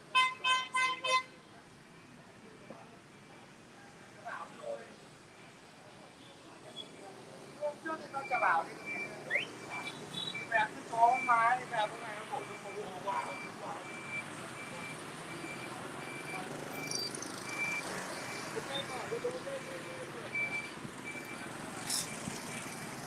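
Street traffic in Hanoi hums in the background while scattered horn toots and short beeping bursts sound at mid distance, and people talk nearby.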